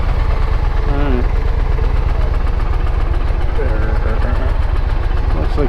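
An Indian Challenger motorcycle engine running at a steady idle, a loud, close, even low throb with rhythmic pulsing throughout, while someone talks briefly over it.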